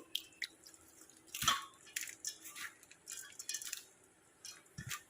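A little water is poured into a homemade preparation: quiet drips and small splashes with a few sharper clinks and bumps, close by with no talking.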